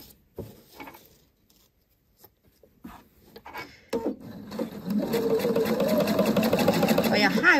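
A sewing machine stitches fabric backed with interfacing, starting with a few short bursts and soft handling sounds, then settling into a steady close whirring run.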